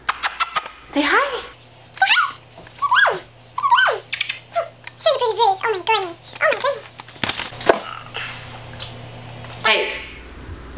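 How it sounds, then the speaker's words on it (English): A puppy plays and vocalizes in a room while a person talks nearby. Yips and whines come in short repeated bursts between the speech, with occasional tapping sounds. "my dog wants to come over here and play with whatever I have"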